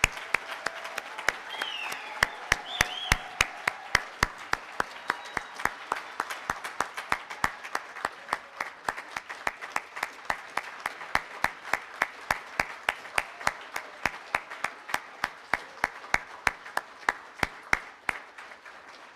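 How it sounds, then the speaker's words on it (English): Audience at a graduation ceremony applauding steadily, a dense crowd of clapping hands with sharp individual claps standing out, sustained and gradually thinning toward the end. "how about another round of applause before we get started?"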